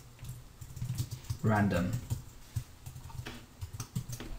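Quick clicking keystrokes on a computer keyboard while Java code is entered, a steady patter of close taps running under a person's talking.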